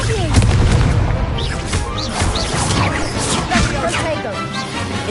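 In Hogwarts Legacy, the Incendio fire spell erupts as a dense, roaring blast of crackling flame and heavy booms that runs the whole time, loud and close, with a voice heard over the game action.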